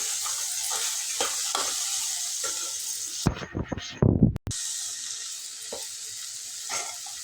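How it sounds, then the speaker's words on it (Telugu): Cut moringa drumstick pieces tumble into a hot, sizzling pan for a tomato curry. A steady oily crackle runs throughout, briefly broken by a clattering, muffled burst as the pieces go in, and then the frying resumes. "కట్ చేసిన మునక్కాయలు వేసుకుందాం"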